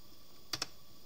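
A computer keyboard gives two quick, close keystroke clicks in the middle of an otherwise quiet room.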